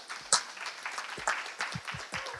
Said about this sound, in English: real quick round of applause for these guys